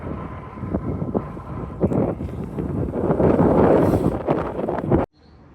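Wind while bikepacking into Poulsbo on Washington's Olympic Peninsula, gusty buffeting roar against the microphone that swells and peaks before cutting off abruptly near the end.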